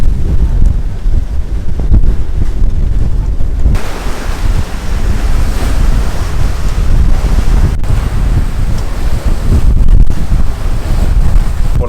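Strong wind buffets the microphone while waves rush against a sailboat at sea, a loud continuous roar with gusts and no talk.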